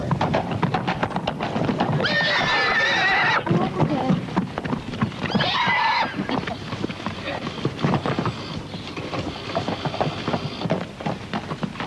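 Welsh cob stallions whinnying loudly at a show, several long neighs over clip-clopping hooves and crowd murmur, with voices talking in the background.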